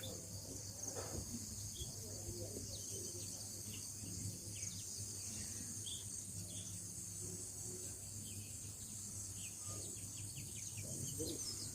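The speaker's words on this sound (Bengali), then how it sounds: "পাখির আওয়াজ শোনা যাচ্ছে," Faint birds chirping in scattered short calls on a cloudy morning at a hillside resort in Sajek Valley, distant and soft over a steady drone of insects and open-air hiss.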